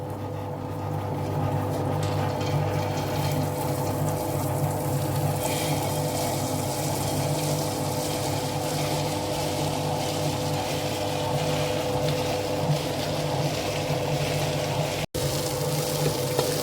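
A wet grinder grinding soaked rice and urad dal into medu vada batter, a steady low motor hum with a churning, sloshing texture running continuously.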